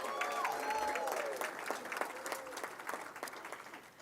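Applause at an indoor hall of fame awards banquet, a crowd clapping steadily and fairly near, thinning slightly toward the end, with a voice briefly audible over it at the start.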